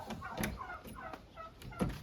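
Several turkeys gobble in rapid bursts, fairly close, overlapping one another with no one talking.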